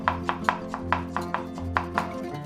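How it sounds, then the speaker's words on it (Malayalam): A knife chops ginger finely on a board, about a dozen crisp, evenly spaced taps in a quick rhythm, close and clear, with a low steady hum underneath. "തീരെ ചെറുതായിട്ട് അരിഞ്ഞെടുക്കാം."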